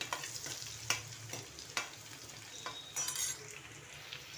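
Green chilies frying in hot oil in a pan: a close, steady sizzle with several sharp utensil scrapes and clinks as they are stirred, and no voices.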